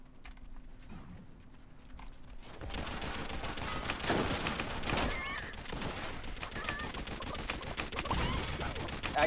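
Gunfire in the battle royale video game Realm Royale, a dense run of shots and bursts that starts abruptly after a quiet opening and carries on loudly, with players talking over it.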